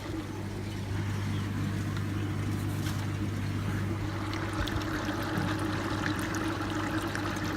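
Water flushing through a home-made koi pond filtration tank, a steady close rushing and trickling wash over a low constant pump hum, with no talk.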